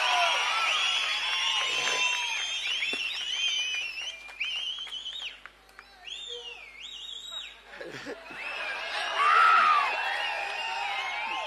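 A rally crowd for Seeman at Gingee Fort shouts, cheers and whistles loudly. Rising and falling cries come in dense waves, with a louder burst of cheering near the end.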